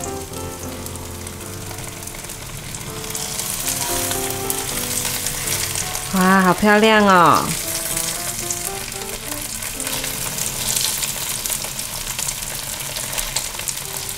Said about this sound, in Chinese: 再让它煎吧。